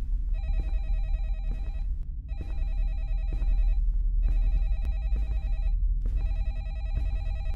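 In a horror video game, a phone's electronic ring repeats in four evenly spaced bursts over a constant low background drone. No voices break in.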